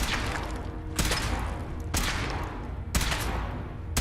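Weapon fire during a power armor test in the Fallout 4 video game: three heavy, booming bursts about a second apart over a dense rumbling background.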